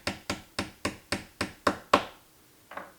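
Hammer tapping a pin into a link of a Moto 360 18mm steel watch band, seven evenly spaced sharp taps, then a pause and one last softer tap, close and clear.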